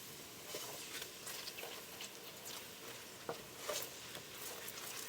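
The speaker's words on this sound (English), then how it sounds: "I'm going to stir." Honey melting over low heat in a pan for an einkorn-crust apple pie, a soft continuous sizzle with faint scraping and stirring clinks, close and quiet with no talking.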